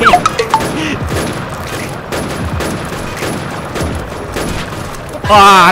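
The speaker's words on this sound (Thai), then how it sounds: "เราก็จะทำการยิงขู่เขาไปก่อนนะครับ" Rapid bursts of gunfire in Minecraft, a dense fusillade running throughout with an excited voice heard at the start and end over the shots.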